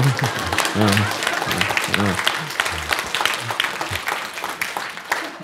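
Audience at a health seminar clapping in a short rhythmic "Kim Jong-il style" applause, loud and dense, with a voice talking over it throughout.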